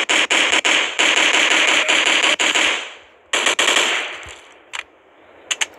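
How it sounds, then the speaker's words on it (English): Rapid automatic gunfire from a fast-firing gun in a zombie video game, loud and continuous bursts for about three seconds, then a second burst and a few scattered isolated shots. "This is not a good gun. It has a fast fire rate"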